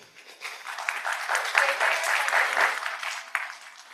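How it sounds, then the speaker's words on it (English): Audience applause at a conference plenary honoring award winners, a crowd clapping steadily at moderate volume that swells in the middle and tapers off at the end. "let's give them a round of applause"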